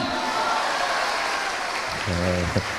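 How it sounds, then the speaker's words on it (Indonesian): Audience at a vocational school inauguration with the Central Java governor, applauding in a soft, diffuse patter of clapping. A voice speaks over it near the end. "Tepuk tangan!"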